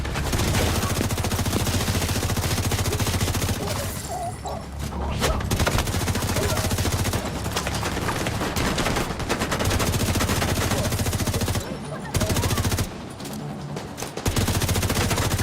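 Sustained automatic gunfire from The Division in a Brooklyn battle, loud and nearly continuous rapid bursts with short pauses, clattering throughout with some background noise and a voice underneath.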